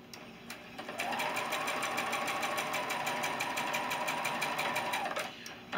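A sewing machine stitching quilt pieces for a four patch block with a quarter inch seam, a close steady whirring hum after a few initial needle taps, running continuously for several seconds before stopping.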